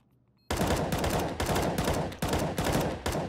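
Rapid bursts of automatic gunfire in the game Counter-Strike: Global Offensive, loud and close, firing in repeated volleys with brief gaps between them.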